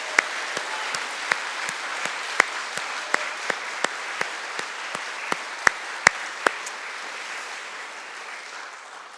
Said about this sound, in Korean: 그런 마음 같으면 더 크게 한번 박수를 해주세요.